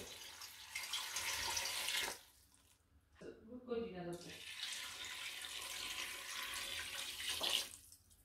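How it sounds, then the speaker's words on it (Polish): Two litres of water pour from a tap over vegetables for a homemade vegetable broth, a steady hissing rush that breaks off briefly, then runs on again, close and fairly quiet in a home kitchen. "To wszystko zalewamy 2 litrami wody."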